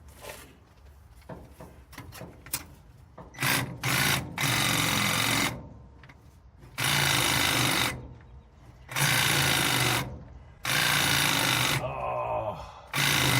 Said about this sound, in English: Gonna use my Milwaukee chisel.